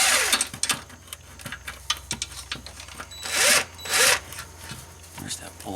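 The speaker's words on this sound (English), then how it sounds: "but we'll just torque them to spec." Clutch bolts on a Suzuki are tightened with a wrench, producing quick close-up ratcheting clicks and taps with a couple of louder rasping swipes midway.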